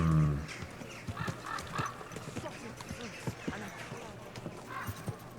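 Horse galloping in the medieval video game Kingdom Come, a rhythmic run of hoofbeats beneath a game soundtrack, with someone talking over most of it.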